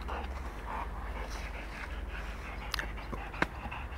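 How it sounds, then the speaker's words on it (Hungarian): A dog pants steadily after fetching a stick from the Bodrog river, quick breathy panting close by with faint background noise and a couple of sharp clicks. "okos a kutya."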